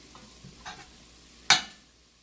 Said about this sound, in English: I like to break up the bigger chunks into smaller chunks as I'm kind of cooking.